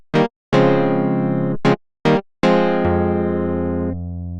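An FM synthesizer keys patch with a rough, buzzy edge plays a few short stabs, then longer held notes with a bright attack that decays slowly, played alone and up close.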